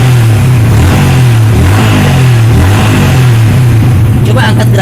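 A Yamaha Vixion motorcycle engine, running after its dirty fuel pump and injector were cleaned, revs steadily and loud close by, with its pitch rising and falling, while people talk over it.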